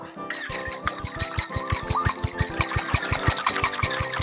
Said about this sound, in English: we're just going to give this a little dry shake first